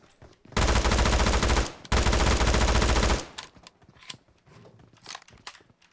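P90 submachine gun in PUBG Mobile firing two loud sustained automatic bursts, about a second each with a short gap between, close and dominant, followed by quieter game sounds.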